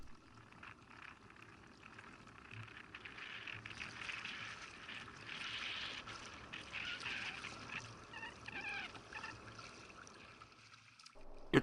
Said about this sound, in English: it's back to paddling as we head for our next objective